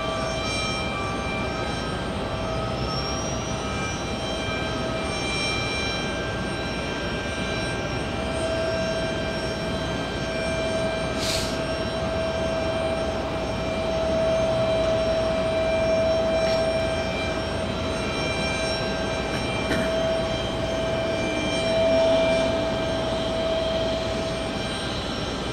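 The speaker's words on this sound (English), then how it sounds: "Virgin Atlantic coming in. Flying in from Heathrow." A Virgin Atlantic airliner arriving from Heathrow drones steadily at a moderate distance, a continuous engine rumble with a high tonal whine, swelling slightly louder in the later part.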